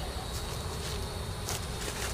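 Honey bees buzz steadily at a packed, heavy hive, a dense continuous insect drone filling the clip up close with no talking.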